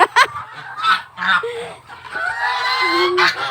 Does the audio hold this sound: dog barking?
no